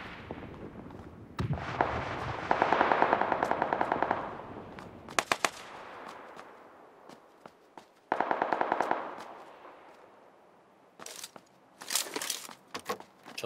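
Automatic rifle fire in PUBG Lite rattles out in rapid bursts, several sustained volleys and scattered single cracks at moderate distance, separated by quieter gaps.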